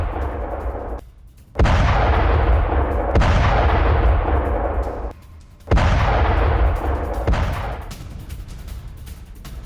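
Explosions from Israeli strikes on Tehran ring out as heavy booming blasts, three or four big detonations each followed by a long rumbling roar, loud and close, with no voices.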